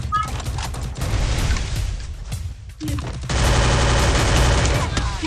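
Rapid gunfire from a shooter video game rattles in dense, loud bursts, breaks briefly, then resumes as a sustained automatic stream.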